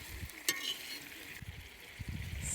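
Young potatoes with dill and garlic frying in a pan, a soft steady sizzle with a few light clinks and stirring bumps, fairly quiet.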